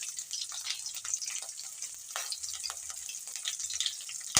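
Chilies crackle and sizzle in hot oil with a steady hiss and scattered pops, close and fairly loud, with no voices.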